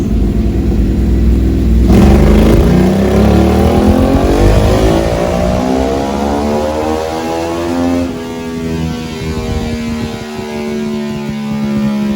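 A custom Ducati Monster 1200 motorcycle engine revs hard on a dyno, a loud close roar climbing steadily in pitch through a long pull, then easing off and settling into a lower droning rumble, with no talk.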